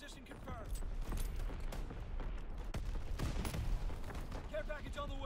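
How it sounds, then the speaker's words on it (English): Division artillery fire in Call of Duty: WWII, a rapid barrage of sharp blasts and crackling impacts in a dense stream, with short radio-style voice callouts cutting in over the noise. "Firing division artillery."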